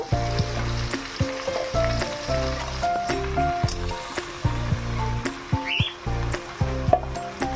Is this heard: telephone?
no